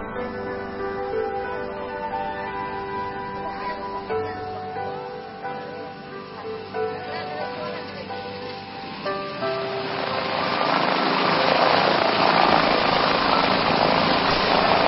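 A small plane touches down and rolls along a rough, short, humpy grass runway, its steady engine drone giving way to a louder, broadband rumble of wheels and wind as it slows.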